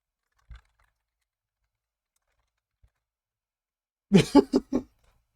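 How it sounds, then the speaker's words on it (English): A few quick keystrokes on a computer keyboard arrive as a short, close cluster of clacks after long near-silence, with one earlier soft tap. "I gotta type that in chat."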